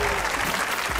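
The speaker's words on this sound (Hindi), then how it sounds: "आपकी भरपूर तालियों में सलीम" Dense, loud applause from a studio audience on a Geo News comedy talk show, continuous for about a second with no voices over it.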